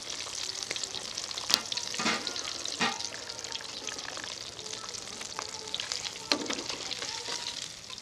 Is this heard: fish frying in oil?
yes